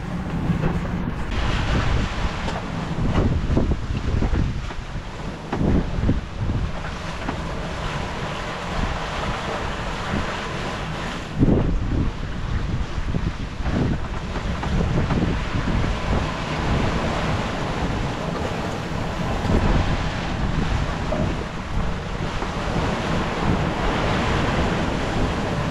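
Strong wind gusts and a heavy swell of about 1.5 to 2 metres rolling behind a sailboat racing solo at sea, a continuous loud roar of wind buffeting the microphone over rushing water.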